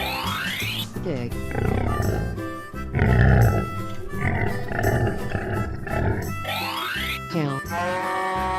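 A cartoon pig grunting and snorting in a children's paint-and-animals game, several rough bursts over busy bright music with sweeping effects and a voice.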